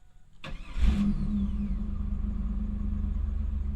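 A Pontiac Firebird with 158,000 miles cranks briefly and fires up, then settles into a steady, close idle that holds to the end with no talk.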